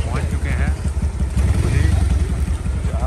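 A motorbike carries about seven people along a mountain road toward a waterfall. Its engine hums low and steady beneath people talking.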